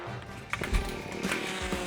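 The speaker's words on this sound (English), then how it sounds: "you brought an auger, a power shovel" A power auger drills planting holes in a home yard, its engine churning with a rough, mid-level drone and irregular digging thumps.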